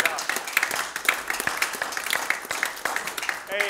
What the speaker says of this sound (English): Give him a hand clap this morning.